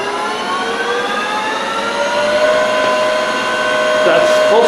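A Precision Matthews PM1440-BV lathe runs at full speed in low gear, about 400 RPM, giving a steady, fairly quiet whine of layered tones that holds constant, with a brief clunk near the end.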